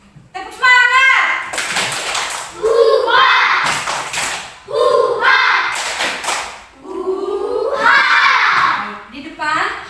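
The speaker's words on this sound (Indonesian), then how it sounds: "Tepuk semangat." Schoolchildren in a classroom clap a rhythmic spirit-clapping routine in loud bursts of sharp, rapid claps, chanting together in between, while a teacher's voice leads.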